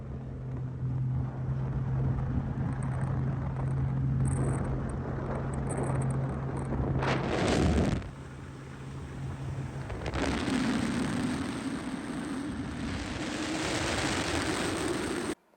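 An old Mercury outboard motor on a boat at sea trial, fitted with a 6-inch setback bracket, drones steadily, surges loudly around the middle, then settles into a running hum before cutting off near the end.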